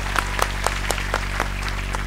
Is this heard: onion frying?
no